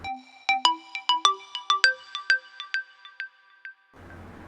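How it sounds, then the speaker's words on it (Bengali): A phone ringtone plays for an incoming call as a rhythmic run of bright, distinct electronic tones, about a dozen notes in a melodic pattern, loud and alone, then cutting off into faint room noise. "এমন সময় কৌশিকের ফোনে ফোন আসলো।"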